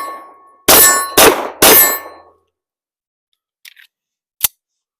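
A 9mm 1911 pistol fired at a shooting range, three loud sharp reports in quick succession, each ringing out briefly, followed by faint metallic clinks.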